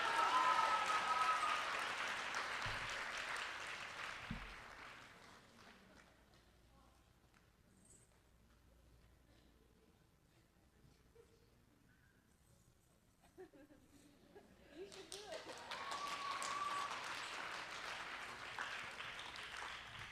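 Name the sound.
audience applause at an arangetram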